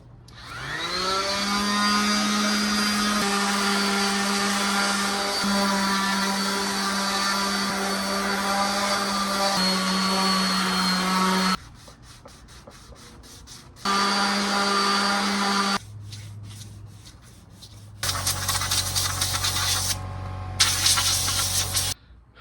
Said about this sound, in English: We'll continue to sand on it